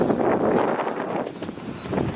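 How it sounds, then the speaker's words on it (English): Wind rushes steadily across a sailboat under way, a broad, buffeting roar of gusts against the microphone with no voices heard. "a little wind picking up here"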